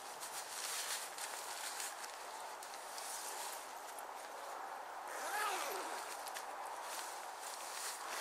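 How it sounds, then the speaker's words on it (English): A Tigris bivy tent zipper is pulled closed from inside during stealth camping. Soft fabric rustling comes first, then a single close, rasping zip stroke near the middle. "Zip this up."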